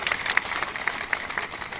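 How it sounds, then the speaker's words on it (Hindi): A crowd claps at a political rally to welcome a parliamentary candidate, a dense, steady patter of hands at moderate volume. "जोरदार ताली बजा के स्वागत करिए"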